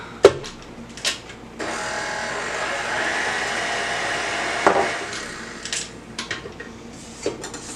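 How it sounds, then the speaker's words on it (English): Lime juice is whisked into a vegan coconut lime cookie mixture, a continuous close whirring with scattered knocks against the bowl before and after. "Let's whisk it up."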